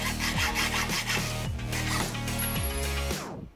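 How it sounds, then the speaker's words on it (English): A saw cuts through steel box section for a homemade tool in a car workshop, its steady strokes rasping loudly and close in a repeating rhythm before stopping abruptly. "Just going to cut a bit of the end of this box section off to make my tool."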